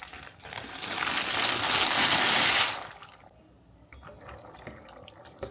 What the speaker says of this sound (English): So now we can add our cavatappi.